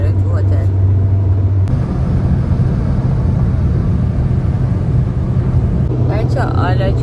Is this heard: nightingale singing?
no